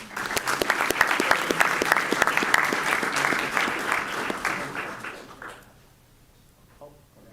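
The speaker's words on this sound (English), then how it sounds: "another round of applause, please" Audience applause at a Strongsville board of education meeting, a loud, dense burst of clapping from a room of people that holds steady for about five seconds, then fades quickly into quiet room tone.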